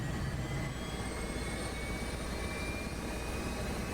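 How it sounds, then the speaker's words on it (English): An F/A-18C auxiliary power unit spins up in a DCS World cockpit, a steady loud turbine roar with a rising high whine, continuous throughout with no talk. "Time to start up the APU."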